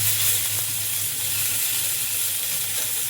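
Bangda mackerel fries in a pan with a steady, close hiss of oil and a low bubbling undertone, no talking.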